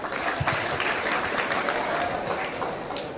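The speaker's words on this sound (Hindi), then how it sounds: "सर के लिए जोरदार तालियां बजा दीजिए।" A school audience at a former principal's event in Mandsaur gives a full, steady round of applause, dense clapping sustained throughout with some crowd murmur underneath.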